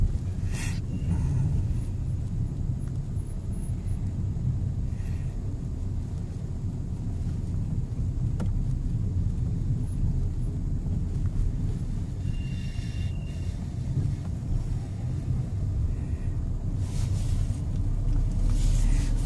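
A car cruises along a road, heard from inside as a steady low engine rumble and road noise with some wind buffeting, and no talk.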